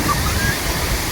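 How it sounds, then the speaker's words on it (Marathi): Savatsada waterfall near Chiplun pounds down heavily in monsoon flow, a loud, dense, unbroken roar of crashing water filling the scene up close. "खूप खूप जोरात धबधबा कोसळतो आहे"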